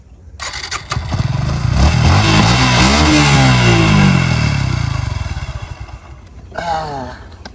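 A new Suzuki motorcycle engine is started and revved up close, climbing to a loud sustained roar, easing back down, then giving a brief second blip before settling to idle.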